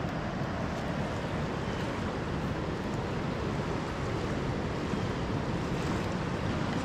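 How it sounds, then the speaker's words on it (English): Steady broadband rush of fast-moving water at a beach at Steep Falls, Maine, continuous and fairly loud throughout, with some wind buffeting and no voices. "There's some pretty fast moving water in here too."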